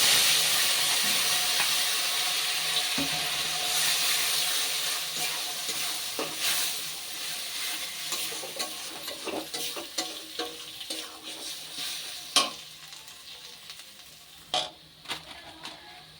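Ground spice paste hits oil tempered with cumin for a taro and prawn curry (kochu chingri dalna). A loud, close sizzling hiss gradually fades, leaving intermittent spatula scrapes and clacks.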